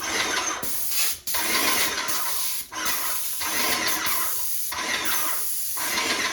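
Loud steady hiss of an Inokraft M1 airless paint sprayer on high spray firing in long bursts, with brief pauses between passes and a faint mechanical whine underneath.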